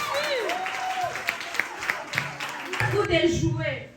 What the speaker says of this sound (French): Est-ce qu'on va applaudir pour elle?